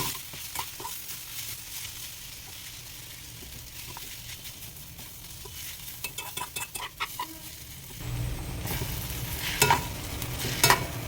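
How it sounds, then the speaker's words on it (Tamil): Mango pieces sautéing in a pan with turmeric for mango rice, a continuous close sizzle broken by scraping stirs and louder clattering toward the end, with no voices. "இப்போ மாங்காவை சேர்த்துடலாம் அதில் இதை வந்து நல்லா வதங்க விடணும்"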